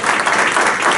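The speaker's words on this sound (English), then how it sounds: "Let's give Lisa a quick round of applause." An audience applauding for Lisa in a meeting room, a brief dense burst of clapping from many hands, loud and close.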